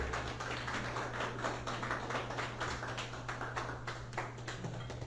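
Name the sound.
church congregation applauding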